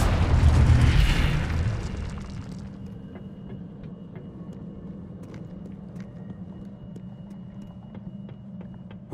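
Spell blasts explode in the Hogwarts Legacy video game, opening with one heavy booming burst that rolls into a fading rumble, followed by a low steady hum scattered with faint clicks and pops.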